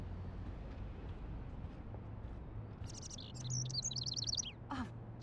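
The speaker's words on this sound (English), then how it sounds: "Oh, jeez, can you help me get this bird out of here?" A small bird chirps indoors in the video game Life Is Strange, a quick run of bright, rapid tweets rising over a low, quiet room hum.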